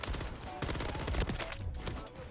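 A RAM 9 submachine gun fires in Call of Duty: Modern Warfare III, with rapid automatic bursts of close, loud shots in quick succession and short gaps between volleys.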